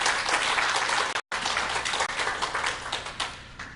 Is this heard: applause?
yes